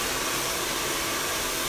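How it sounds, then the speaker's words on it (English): A hair dryer blows steadily as hair is styled over a brush for root lift, a close, even whoosh of air with no pauses or voices. "Keep your dryer above your brush."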